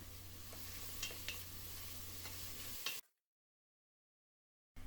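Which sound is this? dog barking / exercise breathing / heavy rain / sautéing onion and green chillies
sautéing onion and green chillies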